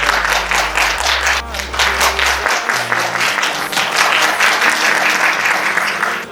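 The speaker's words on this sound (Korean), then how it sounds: "큰 박수로 환영드립니다" A crowd applauds at the 5th Korea SME and Startup Awards ceremony, a loud, sustained wash of dense clapping over a deep low hum.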